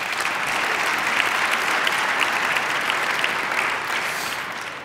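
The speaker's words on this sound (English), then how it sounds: "let's give Darryl a round of applause, too." Sustained audience applause at a downtown civic event, a dense, even wash of many hands clapping that holds steady for the whole stretch and tapers slightly at the end.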